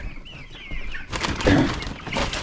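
Chickens and chicks on a farm cluck and cheep close by, small chirps first, then a busier burst of clucking and rustling, with no talk.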